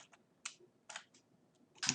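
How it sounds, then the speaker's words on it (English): Someone types a quiz question into Kahoot on a computer keyboard: sparse, light keystrokes in short irregular clusters, close but very quiet, with no talking. "you just start by typing your question in"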